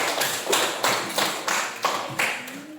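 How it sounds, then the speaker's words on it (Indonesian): A classroom of students claps in six or seven distinct, evenly spaced bursts, fairly near and moderately loud, with no talking. "Angkat tepuk tangan untuk Jennifer."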